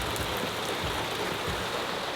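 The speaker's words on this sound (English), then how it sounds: "If it would just stop fucking raining." Steady rain pours down in a continuous broadband hiss, close and even throughout with no talking.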